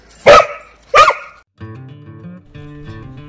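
On a dairy and beef cattle farm, a dog gives two loud, close barks in quick succession, followed by quieter tonal sounds with a faint harmonic whine.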